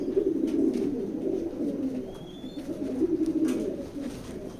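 Soft, continuous low cooing of grizzle racing pigeons in a loft fills the space, several birds murmuring together with occasional faint rustles and clicks, moderately close.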